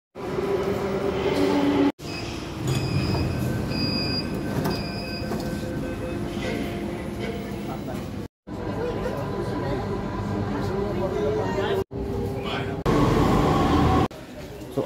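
A metro train in Delhi rumbles loudly and steadily on the rails from inside the carriage, with faint chatter from passengers, brief squeals and a few short cuts in the sound.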